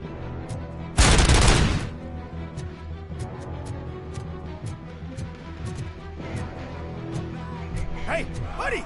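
A loud burst of gunfire erupts briefly in Robocop: Rogue City, then fades into quieter game ambience with scattered faint clicks and some speech.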